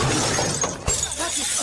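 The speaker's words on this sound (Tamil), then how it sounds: "இடிச்ச வேகத்துல மேல இருக்கிற டியூப் உடைஞ்சு போச்சே." A glass tube light shatters in a single sharp crash followed by a brief tinkling of breaking glass, loud and close over a noisy background.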